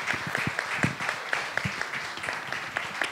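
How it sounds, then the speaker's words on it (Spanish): Applause for presenters at an education and AI event, a moderate crowd clapping with distinct sharp hand strikes standing out over a thinner background of claps. "un aplauso para nuestros expositores"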